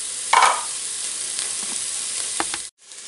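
Onion sautéing in a pan, a steady close hiss with a sharper scrape or clink near the start and a few faint knocks, ending in a sudden brief cut to near silence.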